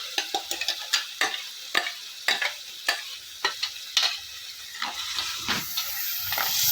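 A ground paste of coconut, tomato and onion is stirred in hot oil in a clay pot. Close, sharp scraping strokes come in a quick irregular rhythm over a continuous sizzle and hiss.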